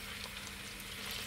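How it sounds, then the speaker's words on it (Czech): Sausages and onion fry in a pot, giving a steady close sizzle and crackle, fairly quiet, with no speech. "do cibulky, do hrnca a necháme ho restovať."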